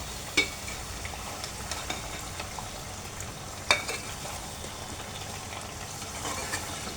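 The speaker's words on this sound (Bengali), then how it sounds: "আমি 5 মিনিটের মতো মাংসের তেলটার মধ্যে লাউটাকে কষিয়ে নেব" Bottle gourd sautés in oil left from cooking beef, giving a continuous close sizzle with two sharp clanks of a utensil against the pan and light scraping throughout.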